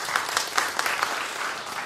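Short burst of audience applause at a political debate in Big Canoe, steady moderate clapping from a modest crowd with a few sharper individual claps standing out.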